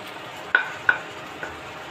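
Soybean chunks are added to a simmering masala and stirred in a pan for mushroom masala curry, giving a few sharp spatula scrapes over a soft background sizzle.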